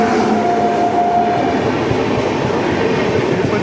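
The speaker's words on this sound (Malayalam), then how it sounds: "3914. തിരുപ്പതി ഹൗറ എക്സ്പ്രസ് ആണ്. തിരുപ്പതി ഹൗറ ഹംസഫർ എക്സ്പ്രസ്." Tirupati–Howrah Humsafar Express train rolling past, a steady loud broadband rumble of wagons with a faint high squeal running through it, continuous for the whole stretch.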